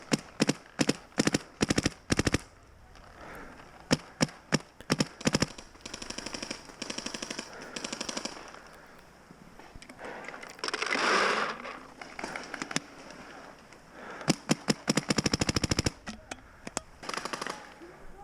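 Dye M2 paintball markers fire outdoors in the snow in rapid bursts of sharp popping shots, loud and close, broken by short pauses, with a longer sustained volley midway and voices faint underneath.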